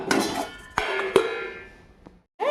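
A metal lid is set onto a pot of ridge gourd curry cooked with milk, making a few bright clanks and rattles close by, with a ringing decay that fades into quiet.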